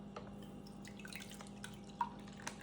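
Liquid from a military ration pasta pouch is poured out in a thin, quiet trickle with scattered drips and small splashes, close by.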